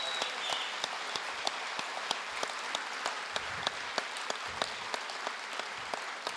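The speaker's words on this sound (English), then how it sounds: "Let's give them another round of applause" Applause from an audience honoring a junior ROTC group at an opening event, fairly soft and steady clapping, sounding somewhat distant throughout.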